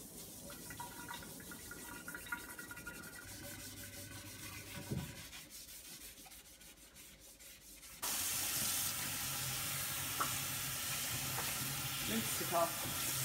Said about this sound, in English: we'll use some Jif or some sort of cream cleanser and a bit of steel wool